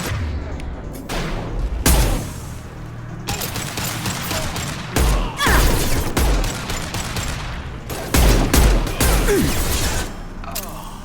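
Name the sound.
grenade explosion and gunfire in Mass Effect 2 video game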